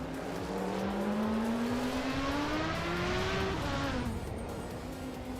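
A 1979 BMW M1 E26 race car engine in a racing video game, droning steadily and loud as its pitch climbs through a long rev, then drops with a gear change and rises again.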